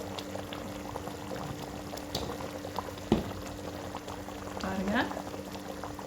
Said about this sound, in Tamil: இந்த சிக்கனை 10 நிமிஷம் கொதிக்கட்டும்